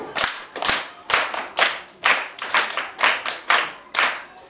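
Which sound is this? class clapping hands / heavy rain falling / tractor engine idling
class clapping hands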